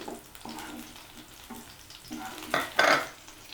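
Green chillies frying in a pan for a mint and coriander chutney, a soft sizzle with several stirring scrapes, ending in two louder bursts of frying.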